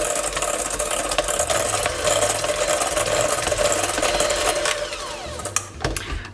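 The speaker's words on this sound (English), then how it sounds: "I'm going to use a hand mixer and mix this for just a few minutes till everything's incorporated" A hand mixer whirs steadily and loudly through biscotti dough, with a rattling, buzzing motor tone. It stops abruptly near the end, leaving a few clanks.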